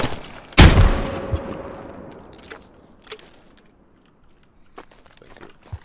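A grenade blast in the Squad combat video game: a single sharp, loud explosion near the start that decays into a rumbling tail, followed by scattered distant gunfire cracks.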